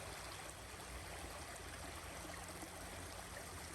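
Running water pours steadily through a shallow stream riffle, a dense, continuous rushing and trickling texture close by with no talk over it.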